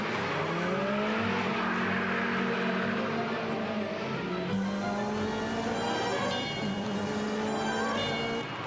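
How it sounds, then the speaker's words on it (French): A Mercedes 2.5-litre 16-valve and a BMW M3 Evolution race at the Montlhéry circuit, engines loud and close, revving and rising in pitch through gear changes, with no talk. "Une Mercedes 2 litres 5 16 soupapes face à une BMW M3 Evolution à Montlhéry"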